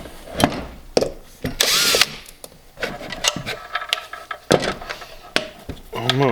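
A power driver bursts on and off in short whirring runs, backing screws out of a 48V server battery casing, with clicks and handling knocks between runs and a person speaking at times.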